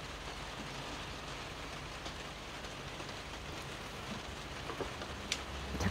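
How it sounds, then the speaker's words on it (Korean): Steady rain falls outdoors in a garden with blooming jacaranda trees, a dense even hiss of drops throughout with a few sharper drips near the end. "빗소리도 좋아요"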